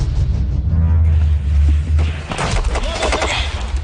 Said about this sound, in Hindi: कहीं हिमालय की पहाड़ी पर गोलियां दागी जा रही थी।